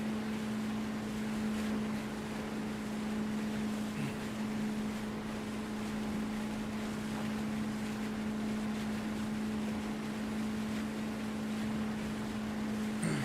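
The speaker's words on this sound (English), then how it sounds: "This boat is very loud." A loud boat engine drones steadily in a military video game, a constant low hum with wind-like rushing over it, heard alone without talk.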